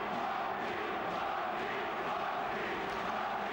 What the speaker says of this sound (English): the crowd respond to the action in the ring with support of their own